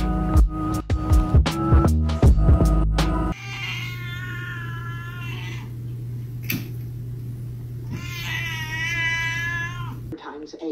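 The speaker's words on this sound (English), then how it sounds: "This is a cat." A cat meows and caterwauls in two drawn-out, wavering yowls that come close and loud over a steady low hum. Music and other sounds play before them, and a voice can be heard.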